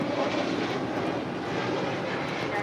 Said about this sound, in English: That was Spirit Airlines Flight 1073 taking off to Nashville on an A320neo